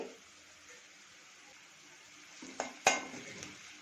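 Ginger garlic paste frying in hot oil for an Apollo chicken dish: a steady soft sizzle with stirring, then a couple of sharp utensil clinks near the end, close and with no talk.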